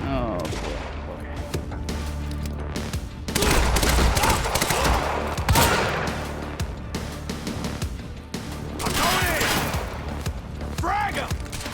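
Sniper rifle shots and scattered gunfire ring out in a Quantum Break combat firefight, with loud bursts clustered around the middle and near the end, mixed with game music and ambient battle noise.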